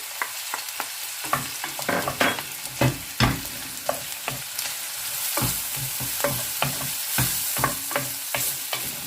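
Garlic frying in a pan for pork adobo: a continuous hiss of hot oil with frequent sharp scrapes and knocks of a spatula stirring, uneven in rhythm, close and prominent, with no speech.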